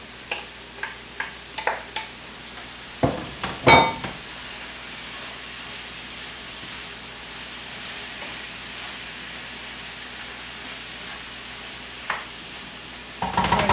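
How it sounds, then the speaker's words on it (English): Cooked and drained sweet corn being stirred into a pan: a run of light ticking spoon taps at the start, a loud clatter in the middle, then a quiet stretch before more scraping at the end. "we're going to stir that in now"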